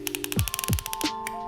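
Ratcheting belt buckle with no holes being adjusted in small steps, a quick run of close, crisp clicks with a few heavier clunks in between, alone with no talk.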